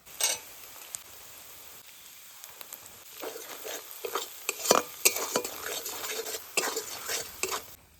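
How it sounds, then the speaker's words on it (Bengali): A spoon scrapes and clatters in a pan while cumin and coriander paste fries, quiet sizzling at first, then a run of irregular close stirring knocks and scrapes, with no voices. "জিরে ধনে দিয়ে একটু নাড়াচাড়া দিয়েছি"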